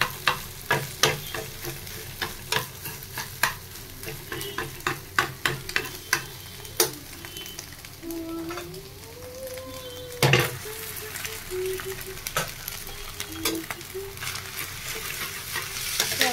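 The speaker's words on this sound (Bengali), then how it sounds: "মশলা দিয়ে দিচ্ছি তেলের মধ্যে" Spices sizzle in hot oil in a pan while egg Maggi is being made, a steady close frying hiss broken by frequent sharp clicks and scrapes of stirring, with no talking.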